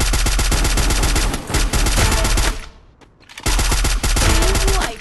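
Automatic gunfire in Garena Free Fire rattles in loud, rapid bursts, breaking off into a brief near-silent gap before the firing resumes just as dense and close.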